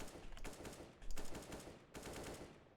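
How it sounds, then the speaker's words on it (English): Automatic rifle bursts in a video game aim practice map, three rapid rattling sprays of fire with brief pauses between, fairly close and alone without talk. "this is just practicing automatic guns and getting used to actually stopping and firing and being accurate."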